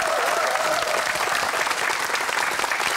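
Audience applause fills a studio show, steady dense clapping throughout at close range.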